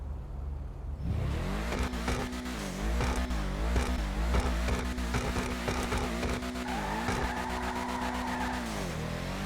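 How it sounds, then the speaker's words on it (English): The Ubermacht Sentinel XS4 racing car engine in GTA Online revs and shifts through gears continuously, with tires squealing in drift skids, loud and close with no talking. "let's take a quick listen to how this vehicle sounds"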